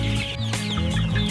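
Chickens and young chicks cluck nearby in a quick, busy chorus of short calls during a brief burst with no talking.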